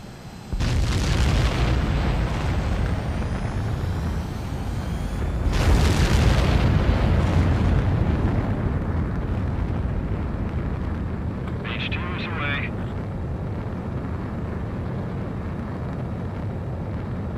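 An F-18 Super Hornet catapult launch from an aircraft carrier roars in loud sustained jet rumble with two surging blasts, a brief electronic chirp near the end, and the engine noise continuing steadily.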